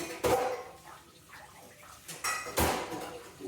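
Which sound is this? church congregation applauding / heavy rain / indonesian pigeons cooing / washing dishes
washing dishes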